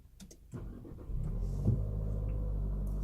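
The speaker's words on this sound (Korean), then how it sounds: "한번 시동을 걸어 보겠습니다." An Infiniti QX50 with the variable-compression VC-Turbo engine starts up, heard from inside the cabin. A short crank catches smoothly and settles into a steady, low, even idle.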